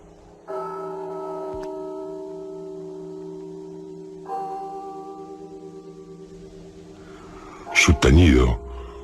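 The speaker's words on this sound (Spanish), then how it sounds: "el doble de las campanas." A large church bell tolls slowly, two deep strikes whose long ringing hum lingers and fades, followed by a brief burst of nearby rustling noise.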